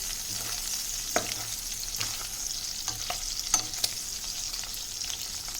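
Dry salted fish fries in a pan of oil with a steady, fairly quiet hiss, broken by a series of light scraping stir strokes and small pops spread through.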